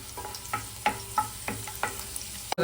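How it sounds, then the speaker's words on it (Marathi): Garlic dropped into hot oil in a pan for a bombil curry fries with a soft continuous sizzle, broken by several sharp clinks and scrapes of stirring, ending in a louder knock. "तेल मस्तपैकी गरम झाल्यावरती आपण पुढची प्रोसेस बघून घेऊया हे बघा लसूण टाकलंय"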